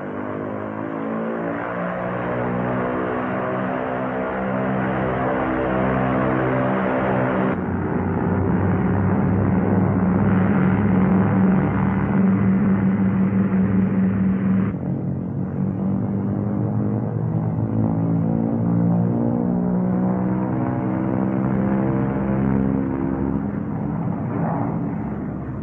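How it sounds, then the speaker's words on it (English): Twin engines of a 1943 Lockheed P-38 aircraft running up to full manifold pressure, a loud steady droning roar rich in harmonics that stays close and constant, stepping up in pitch and intensity partway through, with no voices. "Throttles advanced to get maximum allowable manifold pressure."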